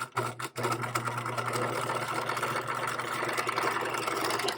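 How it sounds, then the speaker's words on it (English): A sewing machine stitches the second inseam of a pair of shorts, whirring steadily and close after a brief stutter at the start, running continuously to the end. "We're going to sew our second inseam."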